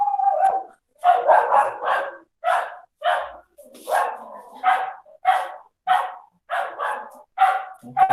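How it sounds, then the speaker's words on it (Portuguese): Dog on the street barking over and over in a steady series of sharp, loud barks, each followed by a short pause, clear and fairly close. "Um cachorro danado aqui na rua."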